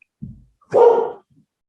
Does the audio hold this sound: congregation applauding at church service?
no